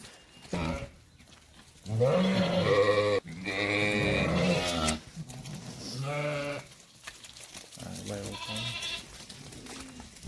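Sheep and lambs from a flock of thirty bleat close by in long, loud overlapping calls, with brief quieter gaps between them.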